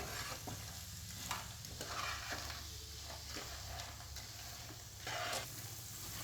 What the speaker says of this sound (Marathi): एक 2-3 मिनिटं हे आपण छान मिक्स करून घेऊया।